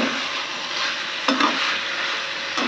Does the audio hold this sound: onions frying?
yes